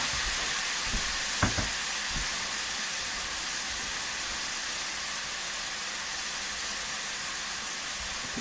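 Skirt steak sizzles in a hot pan with a loud, continuous hiss close up, a few brief knocks near the start as the pieces are set down, and no talking.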